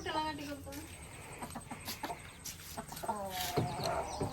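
A hen clucks near her chicks in short, irregular bursts, close by and mixed with people talking.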